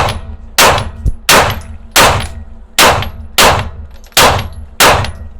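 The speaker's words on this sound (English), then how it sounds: "I'm shooting." Nine loud, sharp pistol shots from a SIG P365 firing Badger factory-reloaded 9mm ammunition, spaced unevenly about half a second to a second apart, each with a short ringing decay, close and alone without talk.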